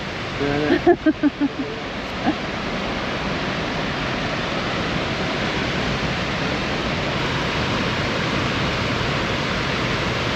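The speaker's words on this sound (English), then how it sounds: "Sound of that water is so loud." Water rushes loudly and constantly at Heage Windmill in England. The dense roar fills the space, with a few brief knocks and voices near the start.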